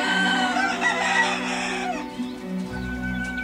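Rooster crowing loudly and close on a tropical island, one long strained call trailing off into fainter farmyard noise.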